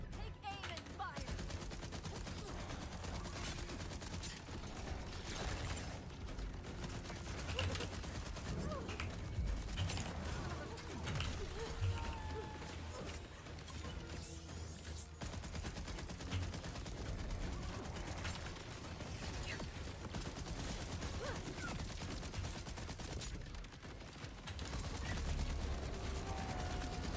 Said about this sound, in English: Take aim and fire.